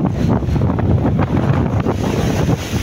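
Strong wind lingers after rain out at sea, buffeting the microphone in loud gusty rumbles, with possible water and surf noise beneath, continuous with no voices.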